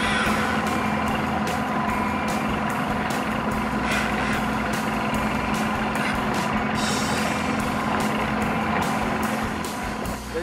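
A boat engine running steadily with a continuous low hum while fishing, accompanied by a regular series of sharp ticking or beeping pulses throughout.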